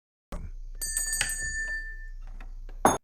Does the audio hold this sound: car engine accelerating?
no